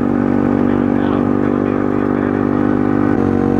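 A pit bike's small engine runs loud and close at a steady high idle, its buzzing drone holding throughout with a slight pitch drop near the end.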